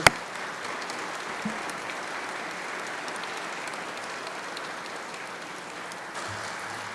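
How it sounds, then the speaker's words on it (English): An audience at a biblical archaeology talk gives a round of applause. A steady, even rush of many distant hands clapping continues throughout at moderate volume, with a soft thump at the start and near the end. "I would love to just take a moment to give them a round of applause"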